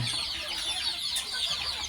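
Chickens cluck close by in a steady, busy stream of short, high calls, with no voices over them, while one pecks at the nose of a standing animal.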